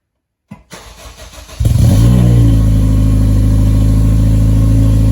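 A straight-piped Acura RSX Type-S makes its first start: a starter crank and sputter, then the engine catches into a loud, rough, steady idle close by with no one talking.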